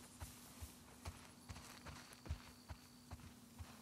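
Horse hooves clip-clop at an even walking pace in The Last of Us Part II, about nine soft, evenly spaced thuds, fairly faint and slightly distant over a low steady hum, with no talk.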